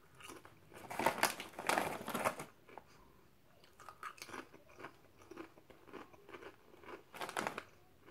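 Crunchy salt and vinegar flavoured Japanese chips being bitten and chewed close up, several quiet crisp crunches in bursts with pauses between.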